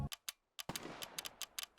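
Gunfire from a weapon in a S.T.A.L.K.E.R. mod video game: two sharp shots, a brief pause, then a metallic clack as the gun jams, followed by a rapid series of dry clicks and shots, close and loud.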